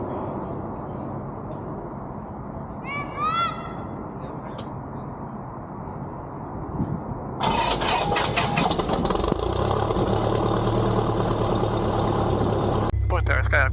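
A Cessna 172 Skyhawk's piston engine cranks and catches partway through, then settles into a loud, steady idle that fills the rest of the clip, preceded by quiet ambience and a brief chirp.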